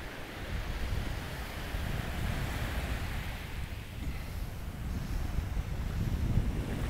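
Sea waves roll and break along a beach while wind buffets the microphone, a continuous loud rushing surf with gusty low rumble and no speech.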